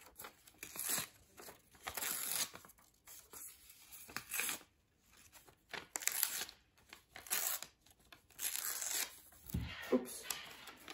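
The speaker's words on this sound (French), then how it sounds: "On déchire les bords." Paper torn by hand along its edges: bursts of crisp ripping and crinkling in repeated strokes with short pauses, close and fairly quiet, and someone speaking French softly in between.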